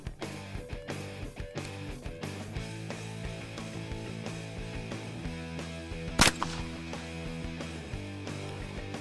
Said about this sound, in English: I'm going to shoot one shot at that target to make sure the Benelli Raffaello 20 is shooting